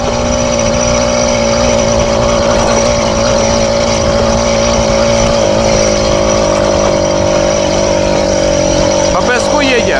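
Small engine of a homemade all-terrain bike driving on sand, a loud steady close-up drone with a constant pitch throughout, with a voice talking over it.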